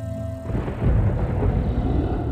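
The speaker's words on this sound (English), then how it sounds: "You hear that thunder?" A deep, rolling thunder rumble in the Wizard101 video game swells after a brief tonal intro and holds steadily loud and low for about two seconds.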